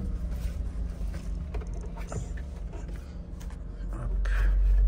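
A Smart car's engine turns over and catches near the end, a low rumble swelling loud and close after a few seconds of quieter background noise.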